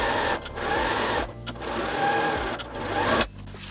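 A sewing machine echo quilts around circle and semicircle shapes on a Drunkard's Path cushion cover, running in rapid stitching bursts broken by short pauses.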